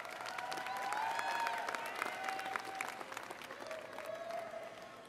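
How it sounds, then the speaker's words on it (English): A high school graduation crowd of graduates applauds their parents, sustained clapping that swells and lingers across the hall for several seconds, with some tonal voices or cheers mixed in. "Graduates, turn around and give your parents a round of applause,"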